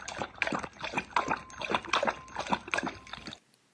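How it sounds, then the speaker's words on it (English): Someone slurping soup with loud, wet sucking and sloshing sounds that repeat in quick bursts about twice a second, close to the microphone, then stop abruptly near the end. "Is someone slurping their soup?"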